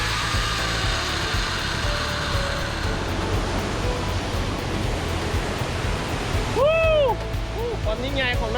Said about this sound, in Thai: ความยิ่งใหญ่ของน้ำตกนี่เป็นน้ำตกตาดสมึกยอดไปเลย